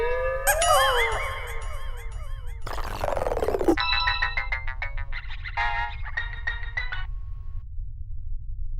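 A mobile phone ringtone plays alone over a low steady hum: a bright warbling electronic melody, then a sweeping burst, followed by repeated chiming tonal notes that stop near the end.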